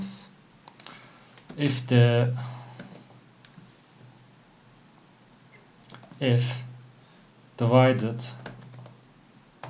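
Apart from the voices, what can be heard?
typing code on a computer keyboard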